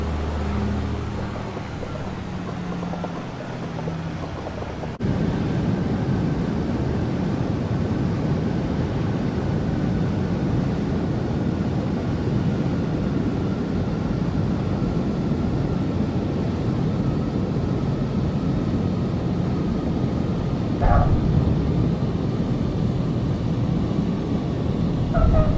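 Simulated Australian-made light aircraft in Microsoft Flight Simulator, a steady droning engine and airflow roar held at constant loudness for the whole stretch after a brief quieter opening.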